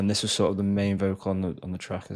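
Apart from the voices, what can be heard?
No distinct noise like a dog, phone or traffic.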